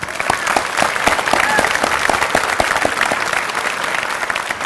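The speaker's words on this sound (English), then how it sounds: "I really want to give her a round of applause" Loud, sustained applause from a large crowd, dense clapping that stays steady throughout.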